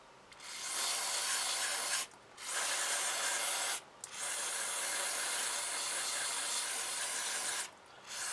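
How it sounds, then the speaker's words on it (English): Cleaning chemical hisses from a spray can onto a Keltec P3AT pistol in three long, loud, close bursts separated by brief pauses. "Alright, now I'm going to spray it off."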